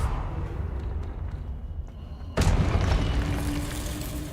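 The Confringo blasting spell in the Hogwarts Legacy game goes off as a sudden booming explosion midway through, over a rumbling low background, followed by a sustained roar.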